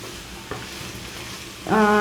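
Finely chopped onions and green chillies frying in a pan over a medium flame, a steady hiss that suddenly swells louder near the end as the pieces hit the hot oil, with no voices.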